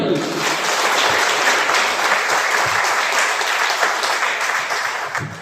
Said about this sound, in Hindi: सो वंस अगेन आप सबके लिए एक जोरदार ताली।